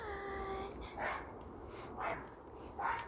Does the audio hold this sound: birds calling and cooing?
no